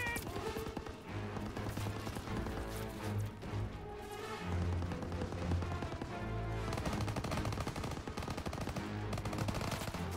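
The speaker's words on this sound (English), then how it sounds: "Suppressing fire! Move up! Go, go, go! Covering fire!" Sustained machine-gun suppressing fire in the WWII shooter Call of Duty: WWII, a dense, continuous rattle of automatic gunfire layered with battle noise and music for the whole stretch.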